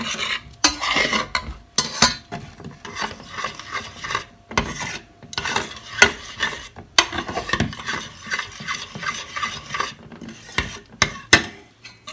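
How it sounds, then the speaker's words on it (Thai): Coconut milk mixed with sugar and salt is stirred in a pot, giving repeated rasping scrapes in an uneven rhythm, close and clear, with no talking. "วนหน้ากะทิเราก็ใส่กะทิที่เราผสม น้ำตาลกับเกลือไว้นะคะ คนให้น้ำตาลละลายค่ะ"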